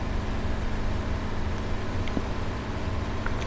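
A tractor engine in Farming Simulator 19 drones steadily at a low, even pitch throughout, a continuous motor rumble with no talk over it.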